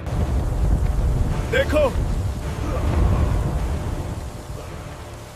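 Storm wind as a sound effect: broad rushing gusts and a low rumble swell and fade throughout, loud and continuous, while a narrator speaks briefly over it.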